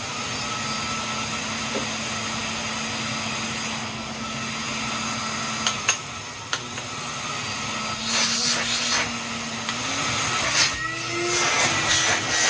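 Tri Star CXL canister vacuum cleaner motor running steadily and continuously at close range, with a constant whine and a slight shift in pitch partway through; no one talks.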